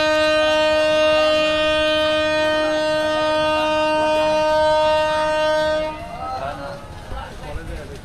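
Ramna Local passenger train departing, its horn sounding a long, steady, loud blast for about six seconds before it stops and leaves the rumble of the train pulling away.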